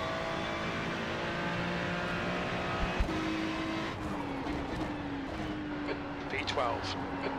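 Ferrari GT3 race car in the iRacing sim at Okayama, its engine droning steadily with a shifting pitch through a corner and onto the straight, someone talking over it.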